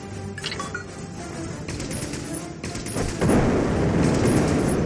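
In the pirate ship game Pirateers, ships are blown apart amid a dense, continuous barrage of booming cannon fire and crashing explosions, growing heavier toward the end.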